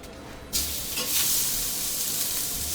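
Onion hits a hot pan with a sudden loud sizzle that holds as a steady, close frying hiss, with a faint stir, no voices.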